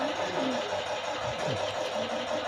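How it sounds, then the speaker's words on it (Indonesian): Foam shredder machine driven by a multifunction drill: a steady, moderately faint motor whine with a grinding, churning texture that holds constant through the whole stretch. "mesin penghancur busa"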